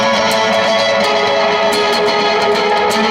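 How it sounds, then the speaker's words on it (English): Sustained electric guitar chords washed in long, spacey reverb, tones blurring into a dense, ringing ambient swell with faint picked accents. "if I try to use like a very spacey reverb, it will not sound as good"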